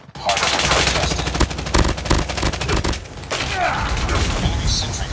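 Rapid automatic gunfire in a first-person shooter match, loud and close, with a dense rattling burst followed by scattered shots and mechanical clatter under game announcer voices.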